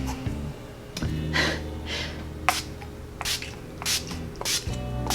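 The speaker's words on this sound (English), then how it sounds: "just give myself a couple good sprays with that" Several short hissing sprays from a bottle of makeup setting spray, spaced a second or so apart, close and fairly quiet in a calm room.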